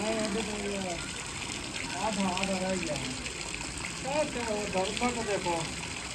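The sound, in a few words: water gushing in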